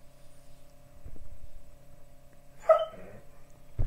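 A pet dog gives one sharp, loud bark in a quiet indoor space after some faint shuffling, followed by a short breathy whine.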